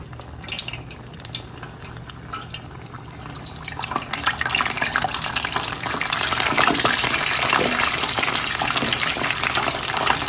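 Pork egg rolls lowered into hot frying oil in a pan, a broad sizzling hiss that swells and grows louder and denser after a few seconds, steady crackle with no talk.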